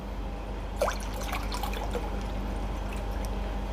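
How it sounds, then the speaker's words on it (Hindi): Water is poured into a very thick mixture, a brief trickle and a few drips heard close up over a steady low hum, with no talking. "अब मैं इसमें और पानी डालता हूँ।"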